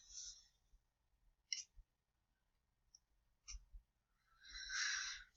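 A few soft, sparse computer mouse clicks land quietly in a near-silent room, mixed with brief faint bursts of breathy noise.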